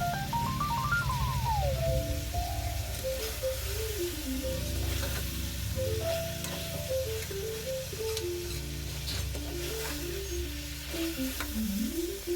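Mutton fries in oil for biryani, making a steady sizzling hiss that runs through the whole stretch. Melodic background music plays over it, and there is no speech.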